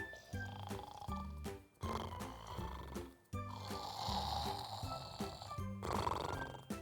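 Loud, rhythmic snoring with raspy, snorting breaths repeating steadily, close and dominant throughout.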